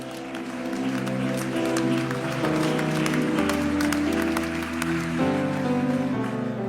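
A church congregation at a celebration service breaks into sustained, dense clapping that carries alongside held keyboard chords, steady and fairly loud throughout.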